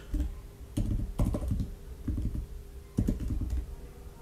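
Keys clatter on a computer keyboard as a URL is typed into an HTTP client, in several quick bursts of close, crisp clicks with brief pauses between them, no voices.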